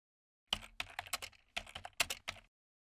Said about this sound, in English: Type ZigZag3 in the search bar.